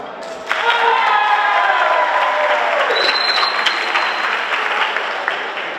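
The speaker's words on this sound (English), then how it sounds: "join me in a round of applause for all of our amazing" Audience at a high school JROTC military ball breaks into loud sustained applause, a dense burst of clapping with some cheering that starts abruptly and holds steadily for several seconds before easing slightly.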